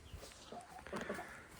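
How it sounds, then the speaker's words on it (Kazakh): Chickens and roosters cluck softly on a farm in short, scattered calls against faint background noise. "тауық та көп сияқты, былай қарасаң, әтеш те көп сияқты"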